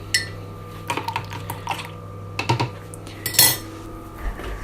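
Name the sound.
cutlery and pans clattering while making hot milk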